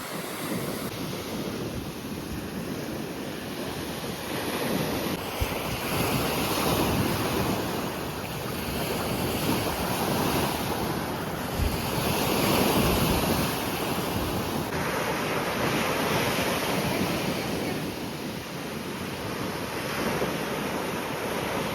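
Sea waves roll onto a beach at Karolino-Buhaz, a steady broadband roar with gentle surges, heavy wind buffeting the microphone throughout, and no voices.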